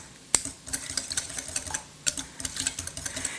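Whisk tapping and scraping through a salted tomato and tomato paste pizza sauce in a bowl, a quick irregular run of light metallic clicks and swishes, close and fairly quiet, no talking.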